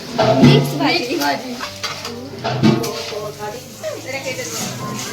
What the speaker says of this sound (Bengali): আমরা বেগুনি ভাজছি